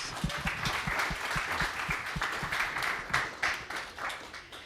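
An audience gives steady applause for a panel of guest speakers at a Full Sail event: dense, sustained clapping with a few sharper claps standing out, fairly close and continuous throughout.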